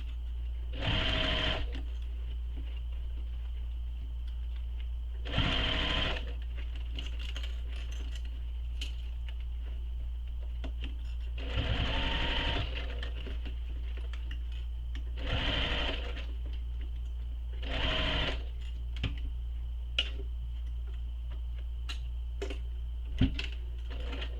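A sewing machine stitches a fabric shoulder bag across pleats in five or six short, rattling bursts separated by pauses, over a constant low hum, with a few small clicks between runs.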